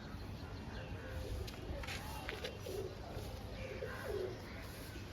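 Faint, soft coos from pigeons come in a couple of short, low calls over a quiet murmur of background noise.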